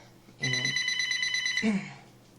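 A telephone rings indoors in a steady electronic trill, loud and close, for just over a second before cutting off, with a brief low voice sound at the end.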